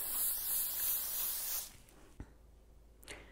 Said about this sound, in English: I like to spray mine with cooking spray just as an extra precaution